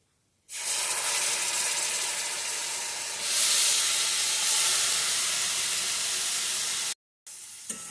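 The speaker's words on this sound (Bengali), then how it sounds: "এখন আমি এর ভিতরে ওই গাজরের পেস্টটা দিয়ে দেবো" Carrot paste hits semolina in a hot pan, bursting into a loud steady hiss after a brief quiet start, swelling slightly midway, then cutting out and returning briefly at the end.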